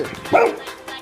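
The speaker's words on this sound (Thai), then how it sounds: "หมาเห่าโวยวายเหรออย่าอย่านะ" A Shiba Inu gives a single short, sharp bark close by, with a person's voice around it.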